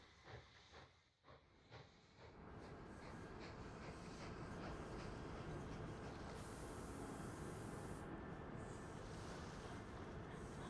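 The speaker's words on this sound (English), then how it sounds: "Train 33 is on its way." A train runs in the video game Mashinky, a soft steady rumbling hiss that builds after a couple of seconds and then holds evenly, heard alone without talk.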